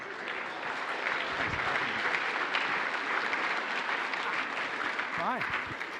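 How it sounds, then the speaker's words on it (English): A crowd applauds after an on-stage panel conversation, producing a sustained, even roar of clapping for several seconds, with a brief voice surfacing near the end. "Please give them a big round of applause."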